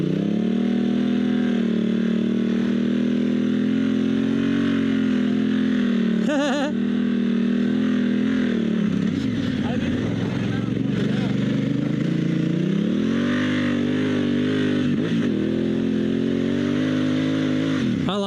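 An adventure motorcycle on Kenda Big Block dual-sport tires churns through deep, powdery sand, its engine droning loud and close with repeated surges and dips in revs, a rider's voice occasionally over it.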